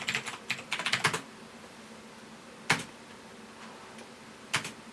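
Typing on an old Trust 486 PC keyboard: a quick flurry of clacky keystrokes, then a few isolated key presses spaced apart, close and fairly quiet, with no talking.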